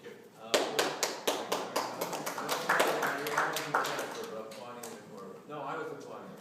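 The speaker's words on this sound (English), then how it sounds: "No, I was applauding." A single person applauds in a courtroom, a quick run of crisp, close claps that slows and fades, with people talking over and after the clapping.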